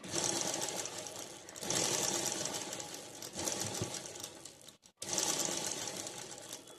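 A sewing machine stitches blouse hangings in long close runs with a steady buzzing drone. It stops briefly partway through and then starts up again.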